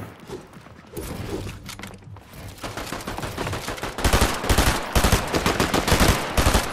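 Rapid gunfire in a PS5 Duo Cash Cup match, loud repeated bursts of shots that grow heavier and closer in the second half, with little talk over them.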